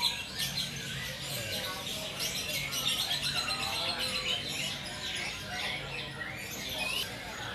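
Several small birds, including a Papuan golden bulbul, chirping and twittering continuously at a bird market, high-pitched calls overlapping with a busy background chatter.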